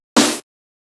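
One snare drum hit struck in the dirty center of the head, a louder, fuller, noisy burst lasting about a quarter second before cutting off into silence.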